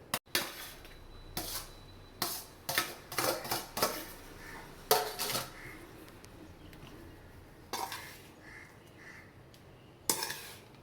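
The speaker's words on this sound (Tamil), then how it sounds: "சூப்பராக கிண்டி எடுத்தாச்சுங்க" Cooked kodo millet rice is stirred in a metal pan with a spoon or ladle, giving irregular close scraping and clinking strokes separated by quiet pauses.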